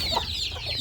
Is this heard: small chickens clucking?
yes